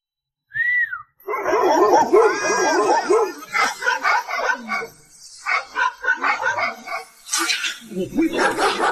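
A small dog yips and barks in rapid excited bursts, close and loud, mixed with a brief whistle at the start and a person's voice in between.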